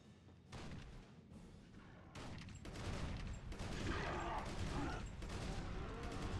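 Resistance 2 gunfire: dense, sustained bursts of rapid shots and heavy thuds pound through a loud, cluttered battle soundscape with brief gaps between volleys.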